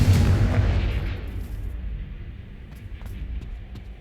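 A Confringo blasting spell explodes in Hogwarts Legacy, a loud booming blast at the start that decays into a rumbling tail, with a few faint clicks and crackles afterward.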